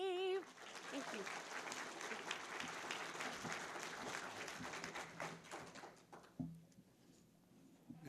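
An audience applauds at an awards ceremony right after the national anthem is sung, a dense steady clatter of many hands that fades near the end, with a few louder thumps and a voice over it.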